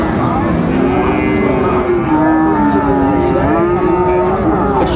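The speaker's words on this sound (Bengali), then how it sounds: "সুন্দর ফ্রিজিয়ান এবং ক্রসের ষাঁড় বাচ্চা আমরা দেখছি।" Six-month-old Friesian and crossbred bull calves low loudly and almost continuously at a cattle market, their drawn-out calls overlapping against a dense, noisy crowd background.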